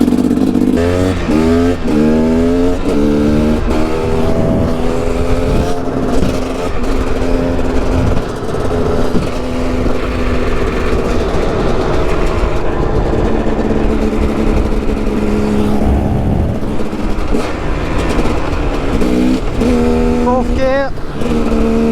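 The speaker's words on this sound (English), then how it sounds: "Very loud bike" A 2009 KTM 250 EXC dirt bike roars loud and close throughout, its engine revving up and down through rising and falling pitch sweeps as it accelerates and shifts gears.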